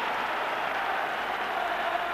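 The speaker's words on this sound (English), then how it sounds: "Absolute bedlam in the stands as Richard Gough leads out his man." A packed football stadium crowd of about 45,000 roars steadily as Rangers and CSKA Moscow walk out for a Champions League night, a dense, unbroken wall of cheering and applause with no individual voices standing out.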